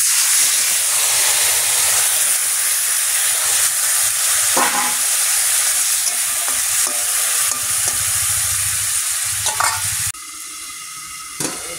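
Potatoes simmering with a little water in a pan on a home kitchen stove give a steady, close hiss and sizzle with faint stirring clinks throughout, easing slightly near the end.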